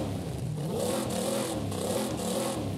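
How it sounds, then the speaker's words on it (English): A race car engine with a lightweight flywheel in the video game Forza Horizon 5 revs up and down repeatedly, rising and falling in pitch, loud and close with no talking. "You can hear that it actually revs up a bit quicker."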